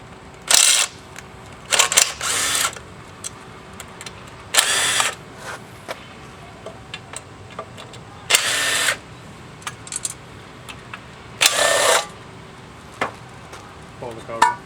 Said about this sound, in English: take the Torx screws out of the inner cover